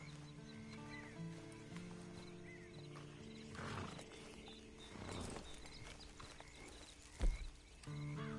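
Video game horse hooves clip-clopping at a walk in Red Dead Redemption 2 Online, with a soft neigh and a thud near the end, all faint under quiet ambient background.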